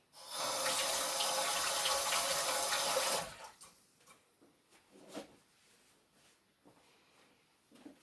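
Someone washes their hands under a running kitchen tap while making chocolates. A steady hiss of flowing water lasts about three seconds and then stops abruptly, followed by faint clicks and handling sounds.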